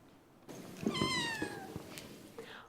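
Cats meow at a cat cafe set up on a college campus by a cat adoption group, one clear drawn-out meow rising and falling close by, followed by softer short mews in a busy room.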